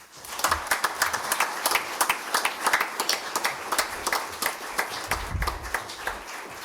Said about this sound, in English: who deserves a round of applause